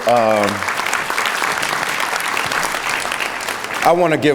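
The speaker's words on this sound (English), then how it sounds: "both of them a round of applause" An audience at a scholarship jazz brunch gives a sustained round of applause for two university leaders. The clapping is steady and full throughout, with a speaking voice just before it and again as it ends.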